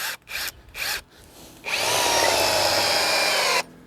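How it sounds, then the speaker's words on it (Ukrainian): A GTM DSI18/60BL brushless impact drill on a weakening battery, two short bursts of whirring and then a loud, steady two-second drive as it sinks a 6 by 100 lag screw into wood, ending abruptly. "І глухарик 6 на 100 ми закрутимо з першого разу на другій швидкості"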